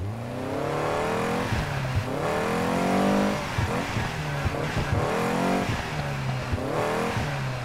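Car engine in the racing video game Need for Speed Heat, loud and continuous, revving up and down through repeated gear shifts, close and alone with no talk.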